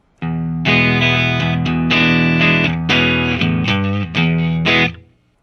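Clean electric guitar from a Fender Telecaster through a Marshall JCM 2000 amp, phaser pedal off, plays loud sustained chords and notes with a few quick changes, close and alone, then rings out at the end.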